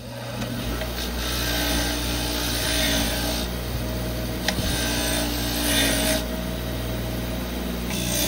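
Rust-crusted nuts and bolts from a 1920s Sears sickle scrubbed by hand, a steady close rasping and rubbing with brief pauses and a sharp tap near the middle, over a constant low hum.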